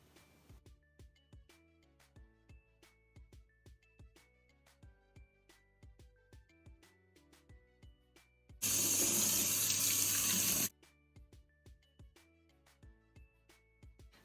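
Hand washing under a running tap, a loud steady gush of water lasting about two seconds, set against a quiet, regular ticking rhythm that plays throughout without talk.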